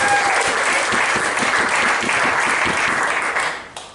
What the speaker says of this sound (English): Let's applause for the fashion.